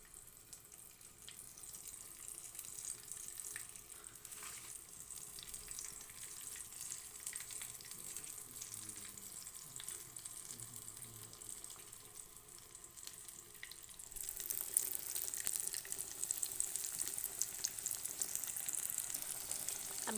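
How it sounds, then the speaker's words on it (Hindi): Fish pieces coated in gram flour fry in hot ghee with a faint, continuous sizzle and hiss that grows slightly brighter and louder near the end. "अब ये हम इसको ये जो घी गरम किया हुआ है इसमें हम इसको फ्राई करेंगे।"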